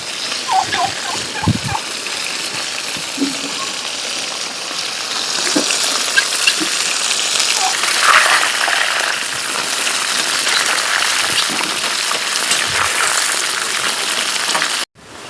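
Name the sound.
mushrooms frying in a pan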